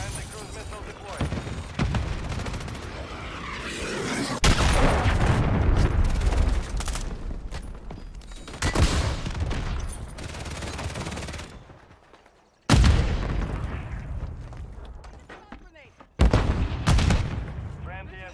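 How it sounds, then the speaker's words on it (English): Cruise missile strike explosions in Call of Duty during a competitive CDL Champs esports match: a steady barrage of gunfire and blasts, with loud, sudden booms standing out near the middle and again toward the end. "Friendly cruise missile deployed."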